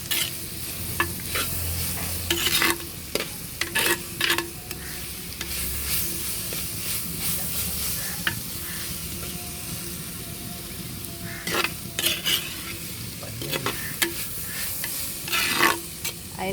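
Curry leaves frying in a pan of oil for Kottayam-style chicken curry, a soft steady sizzle with repeated scraping strokes as a spoon stirs them, fairly quiet and close up.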